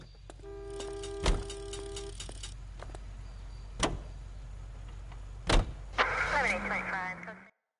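A car driven through the streets in the video game L.A. Noire: a low, steady engine rumble runs throughout, broken by a few sharp clicks and knocks and a brief horn-like tone near the start.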